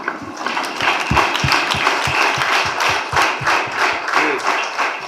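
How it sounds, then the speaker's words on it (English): A standing ovation at a health awareness event on hypertension and diabetes, with a group clapping in a loose rhythm. Some louder nearby claps ring out over a continuous patter that rises and falls. "I want us to actually stand up and give that hand clap"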